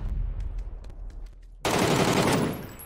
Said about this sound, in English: I'm getting shot in the back by two players.